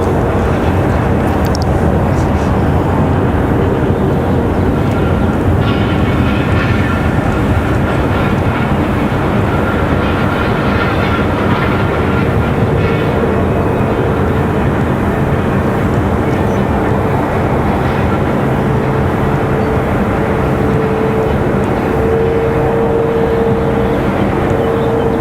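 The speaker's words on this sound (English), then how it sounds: "So you can still hear the ATR." ATR turboprop aircraft at Raleigh Durham airport, a loud continuous engine drone with a rising tone near the end, steady throughout with no talk.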